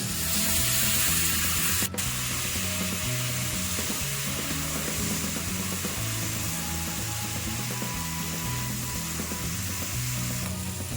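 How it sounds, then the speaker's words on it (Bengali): Spice paste with a splash of water is sautéed in a pan for palak paneer, giving a constant dense sizzle over a repeating low scraping rhythm of stirring. One sharp knock comes early, and nobody speaks. "অল্প একটু জল দিয়ে মশলাটা ভালো করে কষিয়ে নিচ্ছি"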